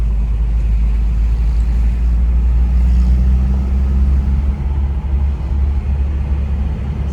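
A Toyota 4Runner engine idles after a head gasket repair, giving a steady, loud, low rumble close by with a slight hum and no talking.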